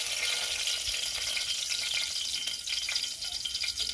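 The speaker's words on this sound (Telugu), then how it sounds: "ఆయిల్ హీట్ అయ్యాక పులావ్ ఆకు వేసుకోవాలి ముందుగా." Bay leaf dropped into hot oil for a chicken curry sizzles loudly and continuously, a bright dense frying hiss close up that holds steady throughout, with no voices.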